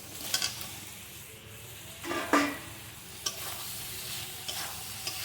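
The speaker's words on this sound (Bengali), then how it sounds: "এবার আমি আলু আর চিংড়ি মাছটা দিয়ে দেবো" Potatoes and prawns being stir-fried in a spiced masala for a prawn and potato dum, with a soft steady sizzle and a few scattered scraping stirs and clinks close by.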